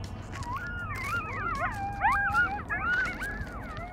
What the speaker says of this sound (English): Hear the coyotes this morning?